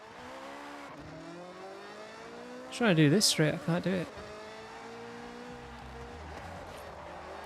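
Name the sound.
car driving and tire squeal in GTA Online video game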